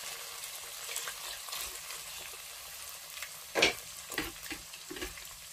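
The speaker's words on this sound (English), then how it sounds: "the oil is hot, so I'm going to pour my prawns. I'm going to stir fry this a bit" Prawns hit hot oil and are stir-fried for efo elegusi, giving a steady close sizzle with a few louder scraping stirs partway through; no one speaks.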